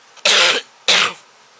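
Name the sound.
coughing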